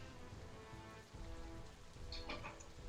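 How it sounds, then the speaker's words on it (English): A thunderstorm rain sound effect of steady rain pattering hard on surfaces, with a dense, continuous hiss and a brief dip partway through, no voices. "as it's thundering and lightning outside and the rain coming down"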